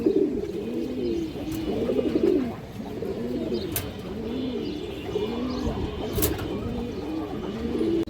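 A male pigeon of an old boot-beaked red Bagha breed coos steadily in repeated rolling phrases close by, with faint chirps in the background and no talking.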